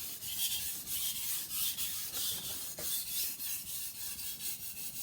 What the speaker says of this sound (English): I'm going to drag this knife down towards me using pressure as I do so.